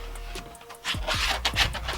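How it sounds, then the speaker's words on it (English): Rough rasping strokes of sanding curved wood cladding on a campervan ceiling, a few quick rubs close by that grow louder partway through. "Bit of sanding"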